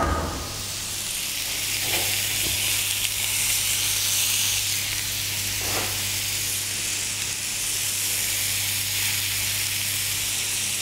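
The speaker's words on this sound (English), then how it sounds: "we're going to fry up our monkfish golden, not too dark" Monkfish fillets fry in a pan with a steady, close sizzling hiss that holds even throughout, and nobody talks over it.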